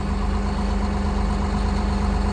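A Caterpillar engine idles steadily at about 1,000 rpm, a close, even low rumble with a constant throb and no talking.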